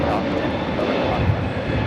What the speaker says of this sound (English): This is a Mint Summer Night's Dream taking off to Boston, A321neo with JetBlue 1388.